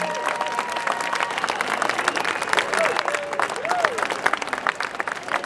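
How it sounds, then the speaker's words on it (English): An audience at a Scottish independence rally applauds, with brisk clapping under some cheering and whoops that rise and fall across the stretch. "Can we actually hear a big round of applause for Pensioners for Indy, please?"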